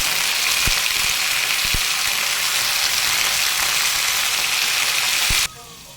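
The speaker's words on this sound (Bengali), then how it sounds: "আলু দিয়ে আপনার ধরে সেটা একটু জিরে ফোড়ন দিয়েছি আর এটা ভালোভাবে কষিয়ে নিই" Potatoes and beans with cumin sautéing in a wok, a loud continuous hissing sizzle with a few knocks of stirring, cutting off abruptly near the end.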